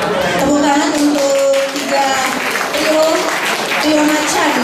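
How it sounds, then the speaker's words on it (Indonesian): Applause from an audience at an office farewell-and-welcome evening greeting new staff, a busy clapping wash mixed with voices and cheering sounds throughout. "Tepuk tangan untuk"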